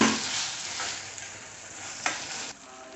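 Ginger garlic paste sizzles steadily in a hot pan for a cauliflower and moong dal curry, a dense continuous frying hiss with faint stirring scrapes, one brief clatter near the end before the sizzle softens.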